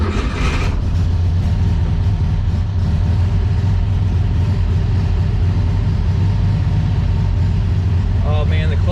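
An old, long-unused VW Beetle engine runs with a loud, close, steady rumbling idle that holds throughout, and a brief voice comes in near the end.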